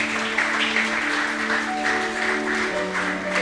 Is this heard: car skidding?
no